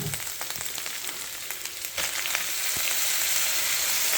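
Canned store-bought tomatoes tip into a hot pot of goulash, setting off a loud, steady frying sizzle with scattered pops and clicks that swells slightly and holds even to the end.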